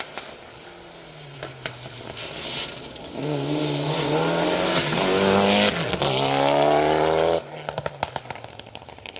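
A Group A Mitsubishi Galant VR4 rally car on a forest stage, its engine note building from a distant drone into a loud, revving rush as it passes close, then cutting away, with sharp crackles and pops from the exhaust.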